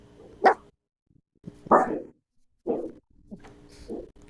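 A dog barks outside in a series of four or five separate barks with short pauses between them, moderately loud and slightly distant, with no voices over them.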